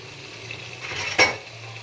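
Potato pieces for aloo gobi fry quietly in a pan with a soft, steady sizzle, then a brief metallic clink from a spoon against the pan.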